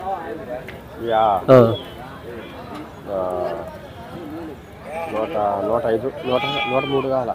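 Sheep at the Gudur sheep market, including pregnant ewes and lambs, bleat loudly several times close by while people talk over and between the calls.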